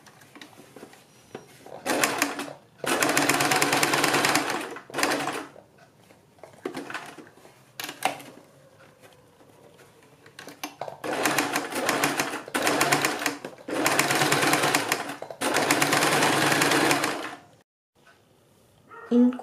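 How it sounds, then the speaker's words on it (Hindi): An electric sewing machine stitches a bell sleeve in close, loud bursts, with about half a dozen runs of rapid stitching split by short pauses and lighter handling noises. "और ये सिलाई भी हमें थोड़ा आराम आराम से लगानी है।"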